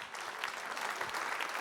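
An audience at the official skipper presentation of the Golden Globe Race in Les Sables d'Olonne applauds the volunteers in a steady, dense burst of clapping heard from within the crowd.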